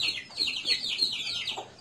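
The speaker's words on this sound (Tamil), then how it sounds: "நமக்கு கோழி குஞ்சுகள் வந்து தண்ணி குடிக்கிறதுக்காக நம்ம பண்ணைக்கு வந்திருக்காங்க" Peruvedai chicks cluck and cheep at a farm, a steady stream of repeated high-pitched peeping calls, fairly close and clear with no talking.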